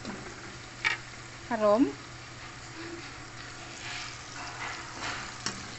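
Dried anchovies (dilis) frying in a pan, a steady soft sizzle under a brief spoken word, with a few louder pops and clinks from stirring.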